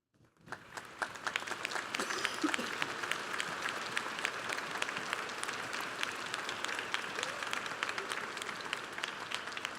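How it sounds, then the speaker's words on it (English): Sustained applause from a large audience at a December 2015 university commencement ceremony for the College of Fine Arts and Communication, honoring the candidates' parents; dense, steady clapping fills the hall for nearly ten seconds after a brief quiet start. "Would the parents of our candidates please stand and receive our applause?"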